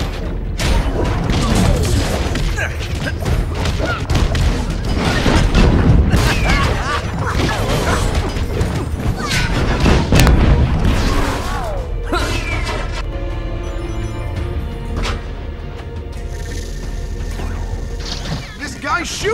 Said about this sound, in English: This guy's shooting at me!